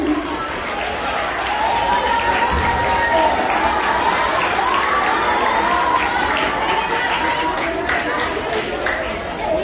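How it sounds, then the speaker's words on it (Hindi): Audience clapping at a school Teacher's Day event, a steady, dense wash of applause mixed with crowd noise and children's shouts throughout, with voices chattering underneath. "तालियां बजा दीजिए एक बार हौसला अफजाई के लिए।"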